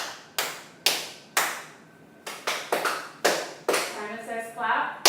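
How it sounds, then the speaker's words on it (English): Hand claps in a Simon Says game with a small group: about a dozen sharp, separate claps in an uneven rhythm, some in quick pairs, close and loud, with a voice talking near the end. "Simon Says clap."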